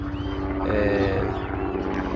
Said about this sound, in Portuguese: tem um helicóptero passando